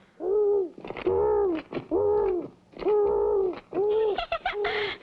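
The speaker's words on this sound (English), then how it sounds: "It was a little bitty old owl." A small owl in an animated cartoon hoots about five times in a row. The hoots are loud, close, tonal and wavering, separated by short pauses, with no talk over them.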